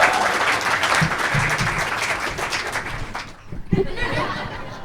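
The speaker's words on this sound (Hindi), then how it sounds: "तालियां उठाइए" At a ghazal and Urdu poetry gathering, an audience applauds a poet being called up, close, dense clapping with scattered chuckles that fades after about three seconds, followed by a few stray claps.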